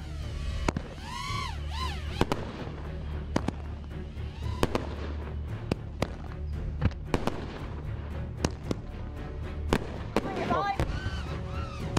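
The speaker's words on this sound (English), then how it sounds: "what does it actually look like to be in the middle where all the fireworks are exploding?" Fireworks burst all around a drone flying through the display, a dense run of sharp bangs and crackling explosions at close range, with whistling streaks between them and constant loud booming throughout.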